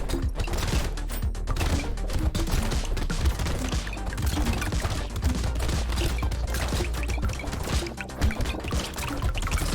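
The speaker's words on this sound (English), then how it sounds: "Really gotta watch out for the bullets from the elite here." Dense, nonstop rapid gunfire and bullet impacts from the arena shooter game Brotato, a steady crackling barrage that stays loud throughout with no pauses.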